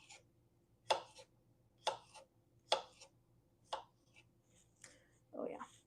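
A knife slices cucumbers on a cutting board in about five separate crisp chops with roughly evenly spaced, quiet, close knocks against the board.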